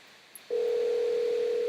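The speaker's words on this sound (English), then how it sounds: "This is Todd's phone" A telephone dial tone starts after a faint click and holds steady, loud and continuous, alone with no talk over it.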